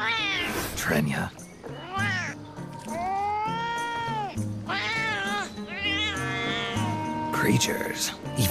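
A talking cat in Metal Gear Solid: Peace Walker gives several long, loud, drawn-out meows with sweeping pitch, set over game music with voices in the background.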